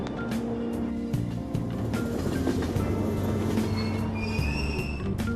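A train sits at a station platform in the Persona 5 video game, steady low rumble with squealing wheels and brief high metallic tones, continuous and fairly loud with no talking.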